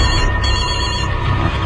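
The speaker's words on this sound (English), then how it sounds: "Hey, look, Craven's phone" Telephone ringing in a movie trailer, a loud continuous ring with music or background noise.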